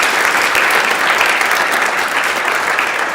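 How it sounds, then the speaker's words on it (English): Sustained, dense clapping from a roomful of people fills a Senate chamber, steady and loud throughout with no talk over it. "if we can give those 3 women a round of applause"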